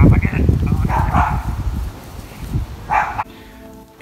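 A pet dog gives a couple of short barks close by, mixed in with people talking to it outdoors.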